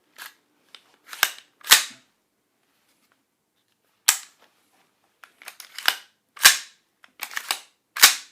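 Ambidextrous charging handle being racked on an AR-style rifle, a series of sharp metallic clacks and sliding snaps in separate bursts with silent gaps between, close and crisp.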